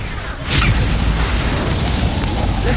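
An Expulso explosion spell in Hogwarts Legacy, a deep, booming blast that swells after a brief lead-in and rumbles on with crackling debris for a couple of seconds, loud and close.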